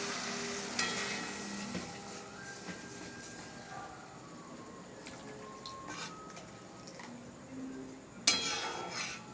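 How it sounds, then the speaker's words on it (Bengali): Water goes into a pan of sizzling fish curry masala, a soft hiss and crackle of frying with light clatter, then a sharp louder burst of sizzle near the end. "এবার আমি পরিমাণ মতো অল্প করে জল দিয়ে দেবো।"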